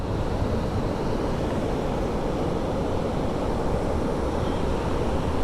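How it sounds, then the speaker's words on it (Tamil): A steady, dense roar of a rain-swollen waterfall near Kodaikanal, loud and unbroken throughout, with no voices. "உங்களுக்கு ஒரு வாட்டர் ஃபால்ஸ் கட்டுறேன்னு சொன்னல, அது இதுதான் பாருங்கள்."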